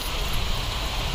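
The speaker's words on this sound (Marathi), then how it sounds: "मंडळी इकडे बघा काय पाऊस पडतोय" Heavy rain pours down outdoors during Lakshmi Puja festival preparations, a dense, steady hiss filling the short stretch without pause.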